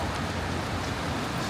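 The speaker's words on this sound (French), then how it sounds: "Ah mais il pleut beaucoup là" Heavy rain pours down outdoors in a loud, dense, continuous hiss with a low rumble underneath, steady from start to finish.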